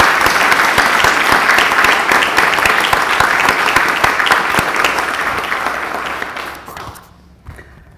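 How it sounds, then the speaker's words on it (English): Audience applause at a university athletics press conference, full and sustained for about six seconds, then dying away to a few scattered claps and near silence. "I still hope you can join me for a round of applause for Jimmy Bass and all he's done for you"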